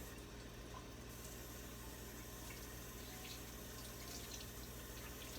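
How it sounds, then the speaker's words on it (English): Tap water runs steadily over a towel being soaked, a faint, continuous splashing hiss with no pauses and no voices. "I take this towel and I soak it, I get it wet,"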